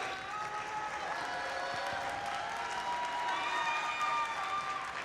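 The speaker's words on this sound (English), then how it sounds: "Please provide a warm welcome for your tournament MC, Mr. Monish Patel." A tournament audience applauds steadily to welcome the event MC at a Statesboro district competition, a continuous mid-level wash of clapping with some crowd noise and no clear peaks.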